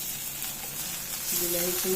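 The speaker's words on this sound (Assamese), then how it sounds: "কেঁচা জলকীয়া গোটেইখিনি ভালদৰে ভাজি ল'লোঁ। লৈ ইয়াতে দিছোঁ বিলাহীখিনি" Tomatoes go into a pan of sizzling fried green chillies and garlic, a fairly quiet, steady frying hiss that grows a little louder partway through.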